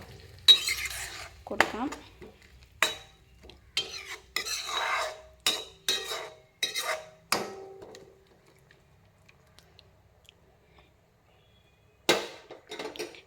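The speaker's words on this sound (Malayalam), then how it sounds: "നന്നായിട്ട് മിക്സ് ചെയ്ത്" A paneer biryani mixture is stirred in a pot, with a series of scraping, clinking strokes of a spoon against metal, loud and close, broken by brief pauses and followed by a late clatter.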